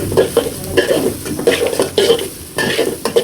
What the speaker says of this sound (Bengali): দেওয়ার পরে এখন ভালো করে আমি মিক্স করে নেব, ভালো করে নেড়ে চেড়ে নেব।